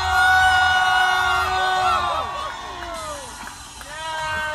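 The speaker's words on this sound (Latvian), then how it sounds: "Vēlreiz skaļas ovācijas viņam!" Festival crowd cheers and shouts loudly for a performer, a dense wash of voices and whoops that swells at the start, dips, then rises again.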